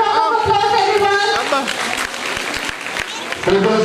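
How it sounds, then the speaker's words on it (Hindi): Audience applause at an institute and hospital anniversary celebration, steady clapping throughout beneath a loud announcer's voice over a sound system. "Please give them a big round of applause, everyone."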